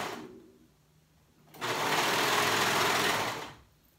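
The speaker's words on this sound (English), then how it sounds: "And then I go slowly, I sew it on slowly." A sewing machine stitches a neckband onto a dolman top, running in one steady two-second burst, loud and close. Quiet pauses come before and after the run, with no talk.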